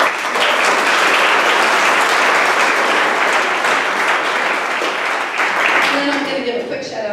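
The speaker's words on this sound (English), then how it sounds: "so give them a round of applause" Crowd at an association event applauds its affiliate partners with loud, dense clapping that holds steady, then thins near the end as a voice begins speaking over it.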